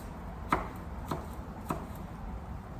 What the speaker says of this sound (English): Then I'll also cut some garlic into tiny pieces as well.